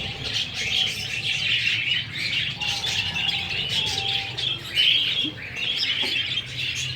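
Pigeons sit on a nest with their two small chicks, giving soft chirps and squawky calls that overlap continuously at close range, with no voices present.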